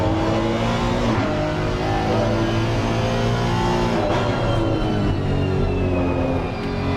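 A race car engine heard on board in a PC sim-racing game at Valencia during a slide, a loud, steady, close drone with shifting harmonics and no talk.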